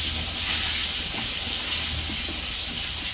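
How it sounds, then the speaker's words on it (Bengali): Quartered medium eggplant pieces frying in hot oil in a Bengali kitchen give a loud, steady close-up sizzle with a continuous hiss throughout and no talking. "এটা একটু ভেজে দিব তেলে।"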